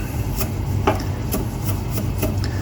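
Rough knife chopping of fresh parsley on a cutting board, a handful of irregular dull thuds and scrapes spaced across a steady background hum, close and fairly soft, no talking.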